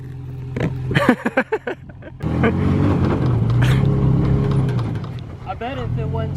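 Toyota Tacoma engine revving hard as its wheels spin in loose sand, a loud sustained rumble that rises after an opening stretch of talk, with voices speaking over and after it.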